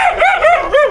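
A puppy yips and barks in four short, high, bouncing bursts close to the microphone, with no talking.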